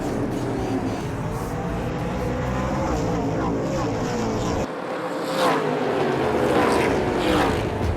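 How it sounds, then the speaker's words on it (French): NASCAR Canada stock cars racing at Montmagny, a loud continuous roar of engines passing with shifting pitch, heard under commentary. "C'est parti pour la dernière course NASCAR Canada de la saison."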